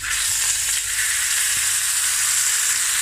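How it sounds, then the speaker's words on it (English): A ribeye steak sizzles loudly and steadily in a hot cast iron skillet, a constant crackling hiss with no voices. "you don't want that sizzling coming to you"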